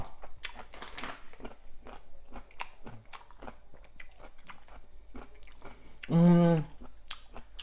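Crunchy food chewed close to the mic, with repeated crisp bites and crackles through the clip and a short hummed tone near the end.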